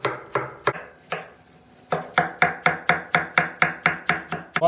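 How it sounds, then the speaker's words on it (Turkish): A knife chops tomatoes and capia peppers into small pieces on a board, close up, with a few scattered cuts and then a quick steady run of even, rhythmic chops. "Malzemeyi özellikle doğrarken ufak doğradım."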